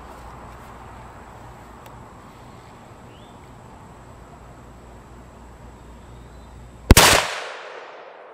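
A single sharp 300 Win Mag rifle shot firing a sabot round at 20 yards cracks loudly outdoors after several seconds of quiet ambient noise, followed by a brief decaying echo.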